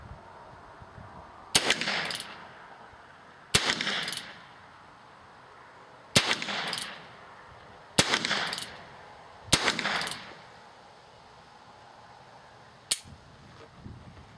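A small revolver fires .22 short rimfire rounds, five sharp cracks spaced a couple of seconds apart with brief ringing tails, fairly close, then a faint click near the end.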